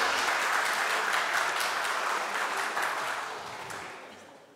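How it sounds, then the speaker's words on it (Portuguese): A crowd applauds steadily at a formal ceremony honoring Italian immigration, a dense wash of clapping that holds strong and then gradually fades toward the end. "Merecem aplausos"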